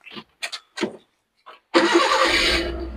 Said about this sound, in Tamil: உங்களுக்கு வண்டி ஸ்டார்ட் பண்ணியும் காமிக்கிறேன் பாருங்க